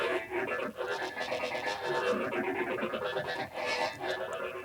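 A synth bass line runs through Logic's micro phaser in a studio session, pulsing rhythmically with a swirling, sweeping coloration and a moderate, steady level, with no voices over it.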